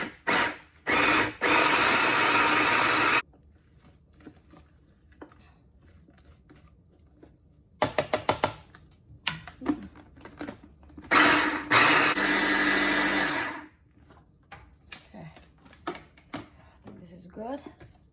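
Kitchen grinder blending Indonesian pork satay ingredients, giving several loud whirring bursts of a few seconds each, separated by quieter handling clatter.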